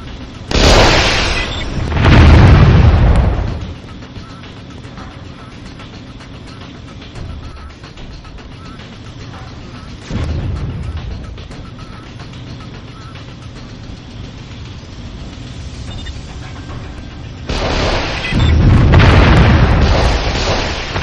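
Laser satellite strikes explode in the strategy game Warzone 2100: two loud, deep booming blasts, one near the start and one near the end, with a softer rumble between.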